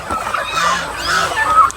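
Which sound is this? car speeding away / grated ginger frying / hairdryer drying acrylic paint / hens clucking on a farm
hens clucking on a farm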